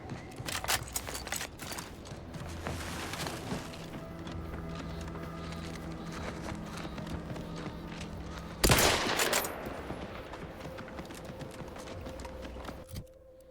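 Repeated bursts from a plasma repeating rifle in The Outer Worlds 2, fairly quiet with scattered rapid shots, then one sharp louder blast partway through before the firing trails off.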